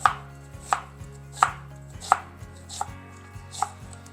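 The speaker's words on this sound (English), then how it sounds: "this is how you'll perfectly chop up an onion" A knife chops through an onion on a cutting board, six crisp regular strikes about two-thirds of a second apart, close and clear, with a steady low hum underneath and no voices.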